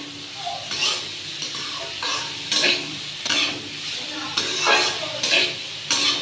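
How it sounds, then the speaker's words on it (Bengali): Beans and peas fry in a pan with salt and turmeric, giving a steady sizzle broken by repeated scraping stirs that come in bursts about every second. "একটু নুন হলুদ দিলাম, এটাকে আরও ভালো করে ভাজতে হবে।"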